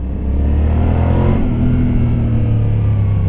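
A Yamaha Tenere 700 motorcycle engine pulling in third gear: a loud, close, steady throaty drone that holds firm under load for a few seconds, with no one speaking.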